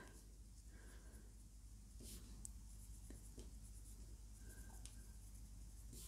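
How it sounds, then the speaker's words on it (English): Grey pencil shading on an artist trading card: a steady, close, soft scratching of graphite strokes across paper, in short repeated passes with brief pauses, and no talking. "I'm going to just take my grey pencil and just add a little shading in places."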